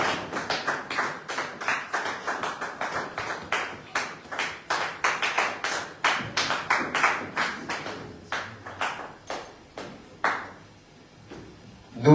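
A church congregation applauds the word of God after a sermon, with distinct separate claps in a loose, steady rhythm. The claps come close and fairly loud, thin out near the end, and then stop.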